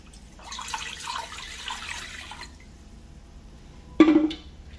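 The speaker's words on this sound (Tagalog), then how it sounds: "Maglagay lang tayo dito ng tubig." Water pours from a tap into a cooking pot for boiling labong (bamboo shoots), a broad splashing stream lasting about two seconds and then easing off, followed by a short louder clatter near the end.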